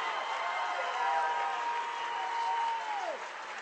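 Gym crowd noise at a high school basketball district final, a steady roar of applause and cheering with a long sustained whistle tone gliding down near the end.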